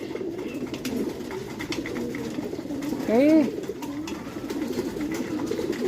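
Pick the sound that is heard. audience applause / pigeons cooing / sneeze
pigeons cooing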